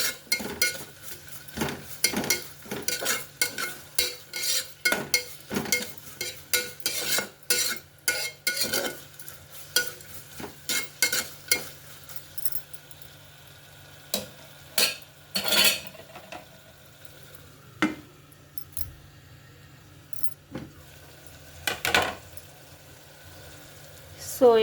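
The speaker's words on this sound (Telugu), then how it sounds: "ఒక పెద్ద స్పూన్ అల్లం వెల్లుల్లిపాయ పేస్ట్ వేస్తున్నాను. ఇది పచ్చివాసన పోయే వరకు మగ్గించుకోవాలి." Ginger garlic paste cooks in a pan while a spoon stirs it, making repeated clattering scrapes against the metal in uneven bursts. A faint sizzle sits underneath, then the clatter thins out toward the end.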